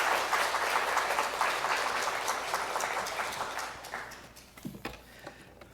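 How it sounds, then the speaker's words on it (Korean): Church congregation at a Sunday afternoon service applauding to welcome a missionary, dense clapping that fades over several seconds into scattered last claps. "큰 박수로 환영해 주시기 바랍니다"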